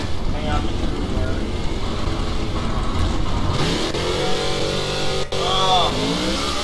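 A race car engine in a NASCAR Xfinity-division video game drones loudly and steadily, its pitch sweeping upward as it revs, with a voice talking over it.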